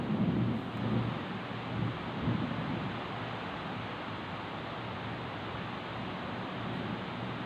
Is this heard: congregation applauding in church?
no